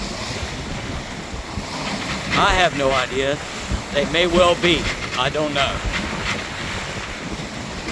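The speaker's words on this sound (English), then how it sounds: "these were 4 or 5 foot waves" Choppy four-to-five-foot waves slap a sailboat on Chesapeake Bay, a steady wash of water and wind noise running throughout while people talk over it.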